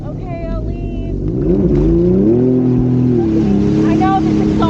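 Sea-Doo Spark Trixx jet ski with a loud exhaust, its engine note climbing and holding in pitch as it revs up near the listener, with a voice audible at the start.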